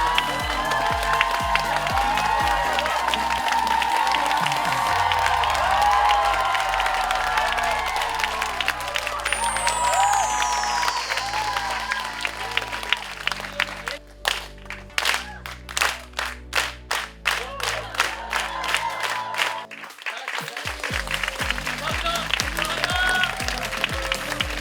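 Audience at a live stage musical claps and cheers with loud, dense applause over music, with periodic rhythmic clapping in time partway through, then sustained applause and whoops continuing near and full in the hall.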